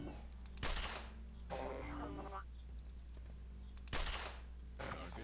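Gunfire in a first-person shooter game as an enemy is shot down: two sharp loud bursts about three seconds apart, with a shorter mechanical clatter between them over a steady low background hum, and no talking.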